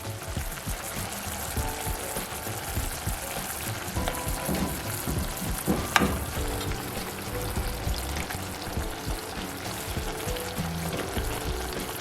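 Fish is added back into a pot of Jamaican curry, which simmers with a steady, close bubbling sizzle; one brief plop rises from the constant hiss, and no voices are heard.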